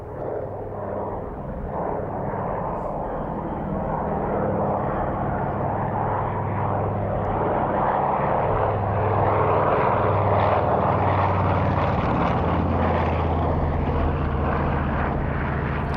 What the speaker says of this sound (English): the consolidated PBY Catalina